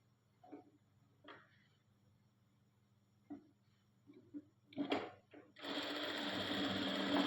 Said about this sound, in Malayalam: ഈ വൈറ്റ് പീസൊന്ന് സ്റ്റിച്ച് ചെയ്ത് ജോയിൻ ചെയ്ത് കൊടുക്കണം